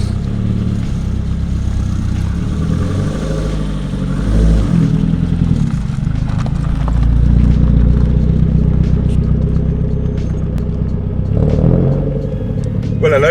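A Nissan Pulsar GTiR with a freshly built engine drives on its first run, a steady loud engine drone with rises in revs and some mechanical clatter, and people talk over it inside the car.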